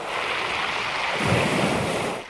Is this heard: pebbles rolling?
yes